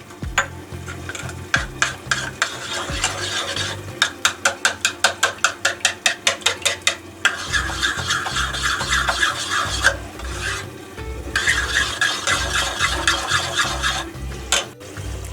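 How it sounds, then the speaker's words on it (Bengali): Sour yogurt being whisked with a little water in a bowl, a continuous rough scraping and rapid rhythmic beating of the whisk, close and loud, with a burst of fast regular strokes in the middle. "চিকেনটা এদিকে বয়েল হতে থাকুক, আমি টক দইটা ফাটিয়ে নেব।"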